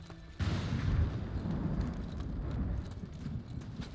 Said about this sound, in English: I'm climbing a mountain with a horse right now.